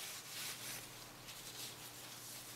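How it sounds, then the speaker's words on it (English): A rag rubs steadily along a wooden dowel wiping off excess wood stain, a soft continuous swishing friction with gentle strokes, quiet and close. "You just wipe off the excess stain so it's not blotchy."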